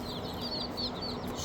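About twenty mail-order chicks, phoenix chicks among them, fresh from the McMurray hatchery, peep in their shipping box: a steady, dense chorus of high chirps close by, with no talking.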